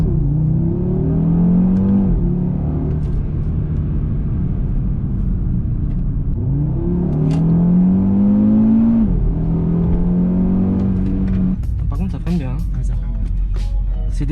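Audi RS3 quattro with a 400 hp engine accelerating hard from inside the cabin, rising engine pitch interrupted by quick paddle-shifted gear changes, loud and close, with some clicks and rattles toward the end.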